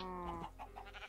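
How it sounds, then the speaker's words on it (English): Minecraft cows in a modded 1.18 game lowing in a few short, nasal calls close by, with a steady background hum and no talking. "Alright, cows, I'm gonna make more of you."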